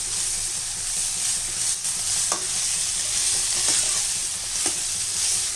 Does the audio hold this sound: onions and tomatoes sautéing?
yes